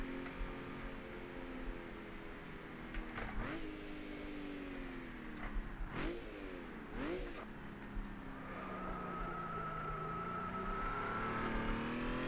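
A 3.6-liter Honda NSX engine in rFactor 2 on the Top Gear Test Track revs and climbs through gears, with sharp shift dips near three, six and seven seconds before a sustained high-pitched pull, close and steady.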